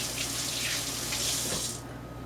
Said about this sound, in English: So I'm going to rinse my hands real quick,